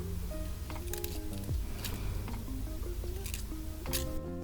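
Epomaker Jade Blossom mechanical keyboard switches under cherry keycaps clack steadily in fast, close typing, a continuous patter of crisp keystrokes with a few sharper bottom-outs.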